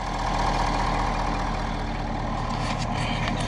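Steady, loud, close idle of a 6.7L diesel truck engine, with a deep knocking rumble and a constant hiss and no voices.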